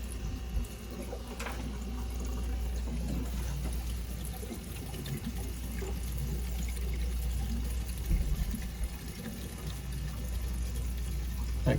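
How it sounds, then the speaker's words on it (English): Steady running water with a soft gurgling, bubbly trickle as air passes through an ACB and KDF water filter system, no voices, a continuous close flow that swells slightly near the end. "That gurgly sound, it's just air getting through"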